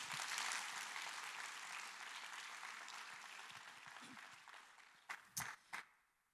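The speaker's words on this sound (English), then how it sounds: "So let's give a round of applause to all of our sponsors." A conference audience at the SATB2 Gene Foundation kickoff session applauds the sponsors; full clapping that gradually fades out, ending with a few scattered louder claps and thumps nearby.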